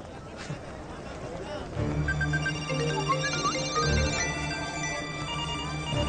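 A phone ringtone plays a repeating melodic tone pattern, steady and moderately loud, over a background of chatter and bustle.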